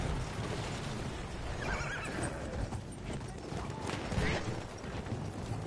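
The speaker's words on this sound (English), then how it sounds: "Horse just got hit by a tank and just moved to the side." Horse in the Battlefield 1 video game, a whinny and clip-clopping hooves amid the continuous din of battle, moderately loud and mixed with other game noise.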